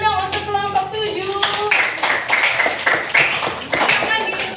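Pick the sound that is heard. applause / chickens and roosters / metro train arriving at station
applause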